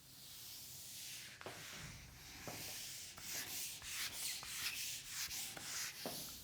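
An eraser rubs across a board to clear written work during a statistics lecture, giving a series of quiet, rhythmic scrubbing strokes with short pauses between them.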